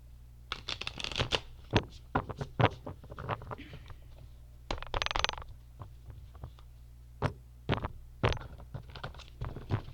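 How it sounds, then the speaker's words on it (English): A deck of cards shuffled in a quiet room, a series of crisp, close riffles and snaps in irregular bursts with brief pauses between them, no speech over it. "I'm only going to shuffle this deck a couple of times"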